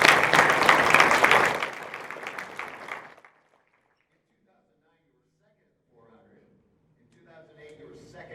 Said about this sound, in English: give him applause for that